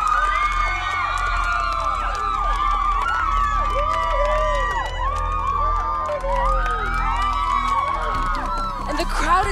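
A large crowd cheers, whoops and shouts continuously as a chancellor arrives by car, a dense, loud roar of many voices with high excited cries rising throughout and brief whistles near the end.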